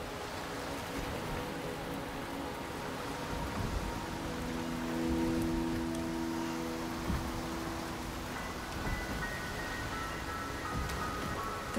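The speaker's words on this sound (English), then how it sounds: "The rain is subsiding, and the sky will soon clear." Soft, steady rainfall in the video game Wuthering Waves, a faint even patter heard over sustained low musical tones, with no speech.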